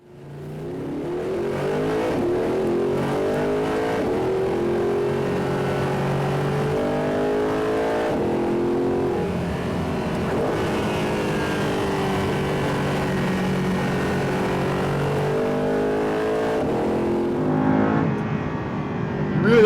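An Audi R8 S tronic's naturally aspirated engine revs up loudly and climbs toward high RPM inside the cabin, holding a rich rising howl for a long stretch before easing slightly near the end.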